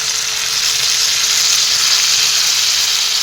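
Tomatoes fry in a pan with turmeric and spices as the base for a fish curry, giving a loud, continuous, steady sizzle close up with no talking.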